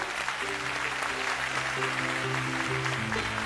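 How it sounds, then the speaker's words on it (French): A TV studio audience applauds six young children on a French family talent show, a steady, even wash of clapping from many hands with a music bed humming underneath. "on va applaudir les 6 enfants, mesdames, messieurs"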